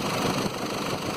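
A 2011 Mercedes Sprinter 313 engine runs with a steady, loud, rough drone caused by a seized alternator pulley.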